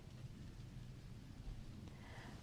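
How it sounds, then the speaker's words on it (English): Rain falling outside as a faint, steady hiss with a low rumble underneath, distant and continuous, with no voices. "It's starting to rain again."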